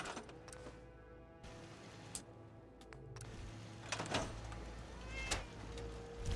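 A cat meows several times in a quiet room, soft and fairly close, with light clicks and faint background noise between the calls.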